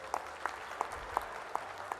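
An audience at a book launch event claps together in a slow, regular rhythm, about three claps a second, faint and distant against a quiet room hum.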